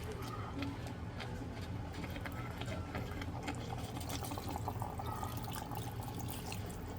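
Water pouring and splashing into a pot of goulash, a soft continuous trickle with occasional drips, fairly quiet and close.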